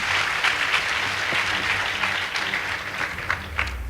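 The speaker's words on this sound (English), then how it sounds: "Please give them a round of applause." A crowd applauding steadily, dense clapping sustained for several seconds at a close, even level.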